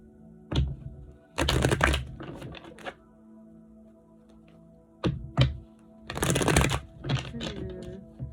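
Two quick bursts of tarot cards being riffle-shuffled, separated by a pause, with soft taps and thumps of the deck around them.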